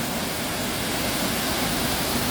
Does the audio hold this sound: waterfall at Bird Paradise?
yes